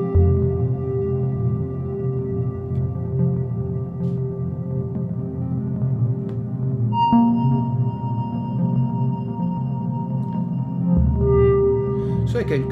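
Sustained ambient soundscape from a guitar run through Mood looper and Perfourmer delay pedals in chain, with layered drones and washing tones, a higher tone entering near the middle and the low bed dropping away near the end.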